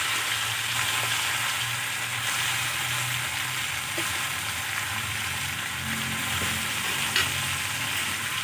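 Onion stalks, chopped onion and green chillies fry in hot oil with a dense, steady crackling sizzle close up, broken by a faint clink or two of a spatula, with no voices.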